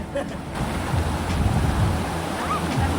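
The Labi River in Bongabon, Nueva Ecija flows beneath a bridge with a broad, constant rushing wash, loud and near, with a little wind buffeting the microphone.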